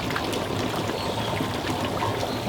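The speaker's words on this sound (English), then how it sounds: "you can hear the air bubbling up" Air bubbles up through the water in a plasma cutting table's water tray, a continuous gurgling, pouring wash of water heard close and steady.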